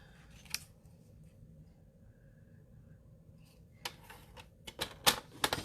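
A paper trimmer scores cardstock, heard as a quiet room with a few faint taps followed by a burst of sharp, crisp scraping and clicking clicks near the end.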